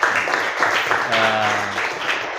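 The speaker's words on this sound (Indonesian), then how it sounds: "Tepuk tangan." Applause from an audience at a teacher-training session, a steady wash of clapping throughout the short stretch with a voice briefly speaking over it.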